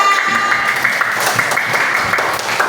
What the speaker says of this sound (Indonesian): kasih tepuk tangan sekali lagi saya